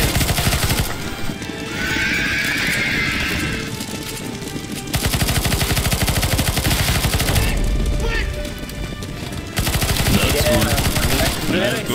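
Rapid automatic gunfire in CS:GO zombie escape mode on a Lord of the Rings Minas Tirith map rattles loudly and almost continuously in long sustained bursts, with an excited voice shouting over it and a brief neigh-like cry mixed in.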